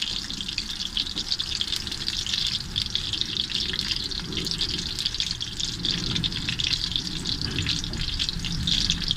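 Eggplant fries in hot oil in a pan, giving a continuous loud sizzle with crackling spatters throughout, close up and without talking.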